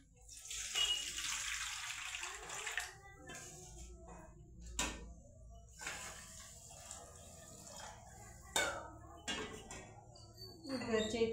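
Rice rinsed with water in a pressure cooker pot: splashing, swishing water and tap flow with intermittent clinks and knocks of the vessel, close by, while someone talks over it throughout.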